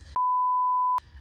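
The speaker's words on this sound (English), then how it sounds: "Beep." A single electronic beep, a pure steady tone lasting under a second that starts and stops abruptly, loud against quiet surroundings.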